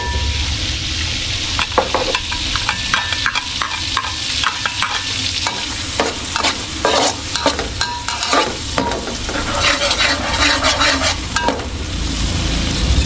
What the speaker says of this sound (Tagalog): Kaya tunawin ko lang po yung margarine, tapos mamaya lagay natin yung bawang sibuyas.